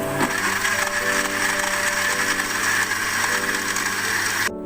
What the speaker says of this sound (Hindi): थोड़ा सा और ब्लेंड करेंगे।